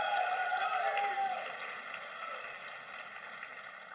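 An audience at a graduation commencement ceremony applauds the instructors and faculty, a steady wash of clapping that is loudest at the start and gradually eases, with a tonal hum sustained underneath.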